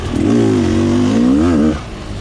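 Rieju 300 motorcycle engine revving close by, a loud rising and falling drone for about a second and a half that then drops back to a quieter idle.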